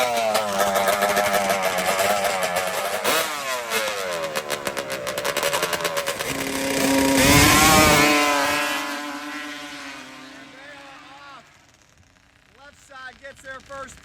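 Loud two-stroke ATV engines, including a Yamaha Banshee, roar and rev hard in a sand drag race, surging to a peak midway then fading, with a commentator talking over the racket throughout.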